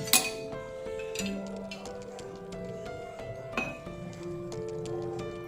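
A spoon clinks against a glass of warm salted water with apple cider vinegar, a bright ringing tap at the start and another partway through, with ringing tones lingering in between, close and without talk.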